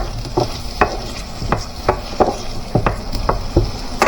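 Spaghetti frying in a little cooking oil in a pan sizzles steadily while a utensil stirs it, scraping and knocking against the pan in irregular close taps; no one speaks.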